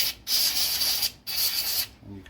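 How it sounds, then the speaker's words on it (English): Cleaner sprayed inside an opened Ryobi drill housing, two loud, close hissing bursts separated by short pauses, with no voices. "spray down inside of there and get it even cleaner"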